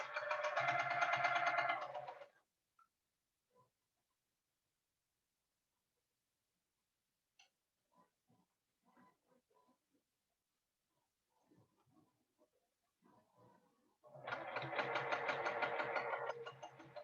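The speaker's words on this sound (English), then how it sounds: "So now I'm sewing the 9 patch pieces." A sewing machine stitches nine-patch quilt pieces in two steady, close runs of whirring at the start and end, separated by a long near-silent stretch with faint handling clicks.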